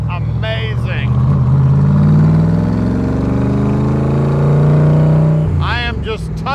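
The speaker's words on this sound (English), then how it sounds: "These side pipes just sound amazing." A 1965 Shelby Cobra Factory Five replica with side pipe exhausts idles and is revved gently, a loud, deep burbling drone that swells and settles, with someone talking briefly before and after.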